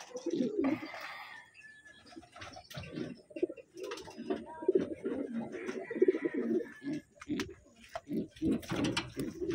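Small pigeons cooing close by, soft throaty coos repeating in irregular bursts, with faint background chirps and rustling.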